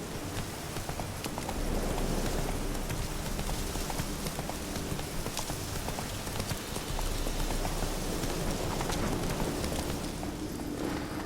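Roach, Geralt's horse in The Witcher 3: Wild Hunt, galloping with a steady, loud, dense patter of hooves over continuous ambient noise, with no talking.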